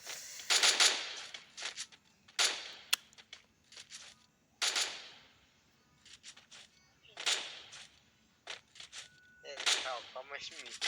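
Video game gunfire cracks in short loud bursts and single shots, spread unevenly with gaps of near quiet, and a voice is heard briefly between them.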